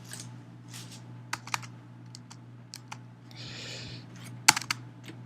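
A computer keyboard gives a few scattered, quiet clicks and taps over a low steady hum, with one sharper, louder key strike near the end.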